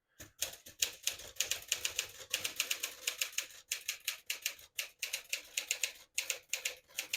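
Rapid, close keystrokes on a 1957 Smith-Corona Silent-Super portable typewriter, crisp mechanical clacks in uneven bursts with brief pauses between runs, with no speech.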